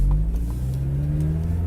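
A 1997 Mazda Miata NA engine hums steadily with a slight rise in revs, a close, moderately loud drone with faint clicks over the top and no speech.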